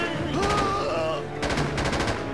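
Rapid bursts of gunfire crackle in the video game Socom 3 U.S. Navy Seals, with dense automatic fire in two clusters separated by a short lull.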